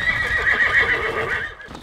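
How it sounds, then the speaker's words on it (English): Ranch horses whinny in a loud, bright, sustained neigh while hooves clip-clop underneath, close by and without any talking. "Horses get fed."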